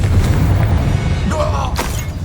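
The Confringo explosion spell is cast in the video game Hogwarts Legacy. A dull burst rises from a steady, loud rumbling bed, and a sharper crackling blast follows near the end.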